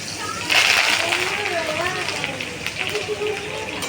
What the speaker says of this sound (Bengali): ভেজে নেব কাঁচা লঙ্কা আর কারি পাতাটা।